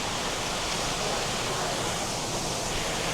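Water from an indoor decorative waterfall in the home decor section of the Ron Jon surf shop rushes in a steady, loud, broadband splash, filling the space evenly without pause.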